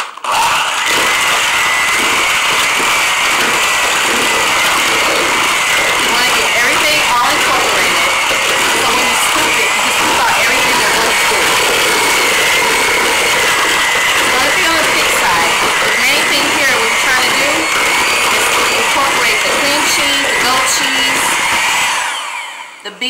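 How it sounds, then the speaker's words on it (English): A handheld electric mixer whirs loudly and continuously, grinding through BLT stuffing of bacon, onions, garlic, seasoning and croutons, its harsh motor buzz steady for over twenty seconds before stopping abruptly, with a voice talking faintly underneath. "we're going to take a handheld mixer and we're going to mix all of this together"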